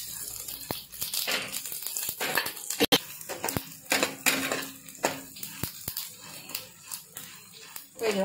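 Chana dal, urad dal, cumin and pepper are dry roasted in a pan over a low flame, with dry rattling, scraping and crackling from stirring and occasional sharp taps against the pan, with some talking in the background.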